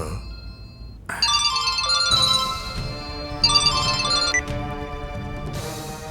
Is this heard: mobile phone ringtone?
yes